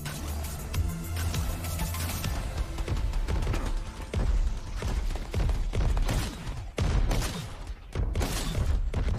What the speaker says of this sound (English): Nice display of fireworks